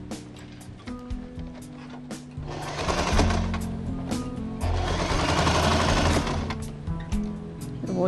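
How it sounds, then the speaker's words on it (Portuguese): A sewing machine stitches fabric onto a floral cosmetic bag in rapid mechanical bursts, clattering hard in two longer runs with brief pauses and lighter taps between them, close and clear, with no voices. "Eu costuro esse tecidinho aqui na necessaire."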